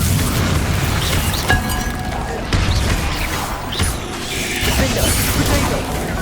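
In the Hogwarts Legacy video game, the Bombarda explosion spell goes off as a few heavy booms and crashes over dense, rumbling game sound, with creaking, mechanical clatter between the blasts.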